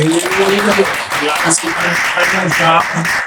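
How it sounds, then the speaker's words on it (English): An audience applauds a panel at a sports and social media talk, a steady wash of clapping running throughout under a speaker's voice. "I'd love for you guys to give a round of applause for everybody here"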